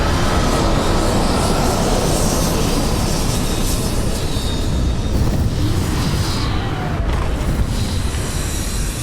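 Spaceship touching down in the video game Starfield, a loud, steady rumbling thrust that holds for several seconds with a brief hiss and drop near the end.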